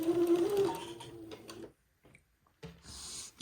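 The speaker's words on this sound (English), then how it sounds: "I'm sewing the bias tape on the front of the jumpsuit" A sewing machine stitching bias tape onto the front of a jumpsuit, a steady close mechanical whir with a faint hum that stops, followed by a brief silence and a few light clicks.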